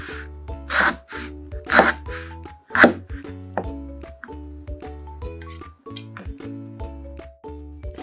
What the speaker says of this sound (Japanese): たくあんは1センチ角に切っていきます